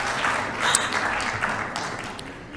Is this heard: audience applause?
yes